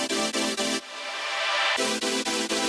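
Noise layer synth patch built in Serum without the saw layer, a bright airy rush chopped into fast rhythmic pulses, then a swelling noise sweep, then pulsing chords again, loud and alone.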